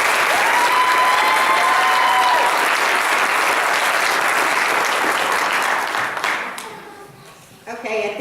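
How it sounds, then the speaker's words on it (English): An audience at a Relay for Life event in Lincoln County applauding child cancer survivors, dense and loud clapping that holds steady before tapering off, with a voice speaking as it ends. "Let's give them one more round of applause."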